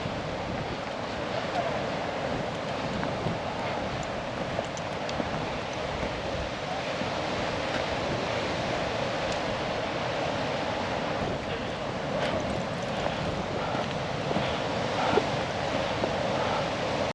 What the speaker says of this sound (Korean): 그 아래에 동굴처럼 뚫린 빙하 입구에서 쏟아져 나오는 차가운 잉구리 강물의 원천을 눈앞에서 감상할 수 있습니다